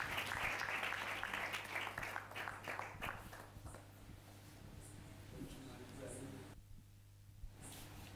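Congregation clapping in praise at a church revival meeting, a loud burst of many hands early on that thins into scattered claps and rustling, with talk and room noise throughout.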